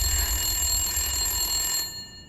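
Telephone ringing in the Resident Evil 8 Shadows of Rose video game, a steady electronic bell tone held for about two seconds and then cut off, loud and alone.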